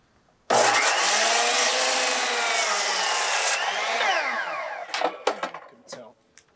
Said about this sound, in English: It's just a monster saw, but it's specifically for chopping beams.